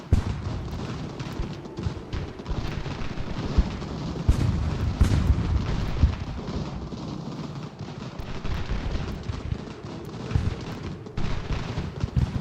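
Artillery cannon fire during a fort assault in Ultimate General: American Revolution, a sustained rumble of booming blasts and scattered reports at middle distance, steady and heavy throughout with no talk.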